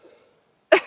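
A single sharp sneeze bursts out close by, loud and abrupt, right after a faint murmur.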